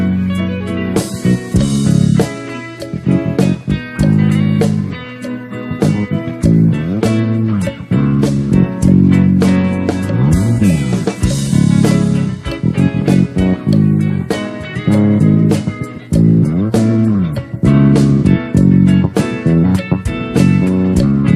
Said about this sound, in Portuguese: Então esse é o som do TW73, 5 cordas, escala em Techwood.